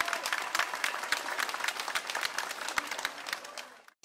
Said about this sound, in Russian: Аплодисменты для наших дорогих учителей!